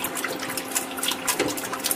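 Pig intestines are rinsed under running water in a kitchen, giving a steady, close hiss and splash of flowing water throughout, with no talking.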